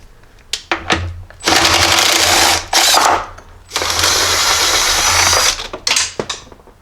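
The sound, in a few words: wrench loosening Jeep battery terminal posts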